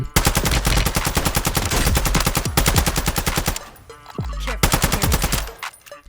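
Reclaimer 18 shotgun blasting in Call of Duty Warzone III: rapid, loud bursts of repeated shots, a short lull, then more shots, with no talk over them.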